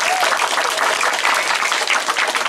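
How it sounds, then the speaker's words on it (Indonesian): An audience at a Balinese comedy performance bursts into loud, dense applause, a continuous wash of many hands clapping close and full throughout. "ngiring tepuk tangan"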